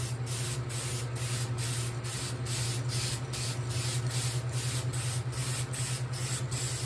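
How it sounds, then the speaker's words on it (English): A can of spray paint gives a test burst for a DIY JEM-style guitar kit finish, a steady close hiss that pulses in even rapid beats over a low constant hum. "I'll always give it a test spray, and we're going to hold this at an angle just like this"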